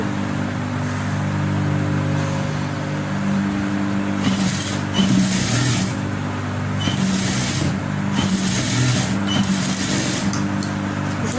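A domestic sewing machine runs steadily while stitching a blouse tulip sleeve, its continuous close mechanical whir and rattle going on without pause.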